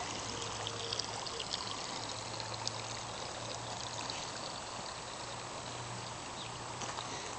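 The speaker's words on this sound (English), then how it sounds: "the overflow from the pond just kind of dumps out right there" Water from a pond overflow pours steadily into an irrigation ditch, a continuous close rushing wash with a faint low hum underneath, steady throughout with no talk.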